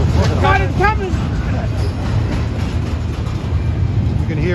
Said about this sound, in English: this is a Union Pacific auto rack train originally